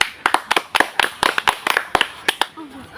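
Children clap for Ratul, the winner of a game, in a loose, uneven burst of separate hand claps, close and sharp, about a dozen strikes over a few seconds before trailing off.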